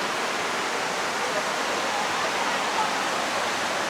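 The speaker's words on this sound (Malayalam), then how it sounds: "ഈ ഒരു മൗണ്ടൻ്റെ മേൽ നിന്നുള്ള ആ വെള്ളച്ചാട്ടം" A mountain waterfall in Armenia, heard from close by as spray blows toward the listener, makes a steady broadband roar of rushing water that stays loud and even throughout.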